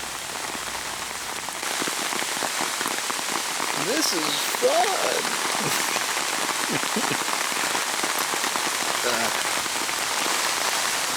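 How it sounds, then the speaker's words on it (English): Steady rain falls on an outdoor hunting spot in the woods, a dense, even hiss that runs loud and unbroken throughout, with a person speaking briefly over it. "It's a little rainy."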